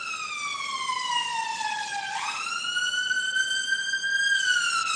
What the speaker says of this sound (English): A lot of ambulance so far